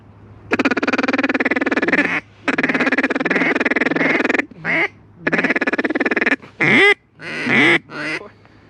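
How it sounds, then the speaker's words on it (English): Loud, rapid quacking from an Allagash duck call in long rhythmic bursts, close up, followed by a few shorter chattering quack sequences with brief pauses between. "here is some clips of us using this call on duck."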